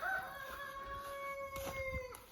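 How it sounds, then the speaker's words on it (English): Roosters just let out into a garden crow under an apple tree, a single drawn-out cock-a-doodle-doo heard from a moderate distance over quiet farmyard background. "It's very peaceful today, apart from the roosters."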